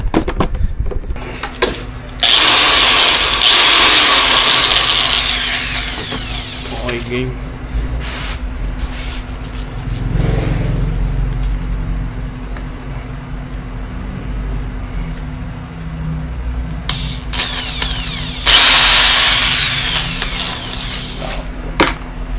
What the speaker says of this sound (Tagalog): Butasan natin to gamit ang barena